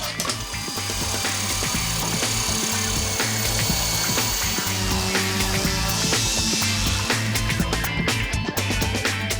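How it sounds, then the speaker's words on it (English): A power sander smooths chiseled-off tapered wooden plugs on a staircase post, running as a steady, loud, continuous whir close by with rough grinding texture throughout. "And then clean them up with the sander."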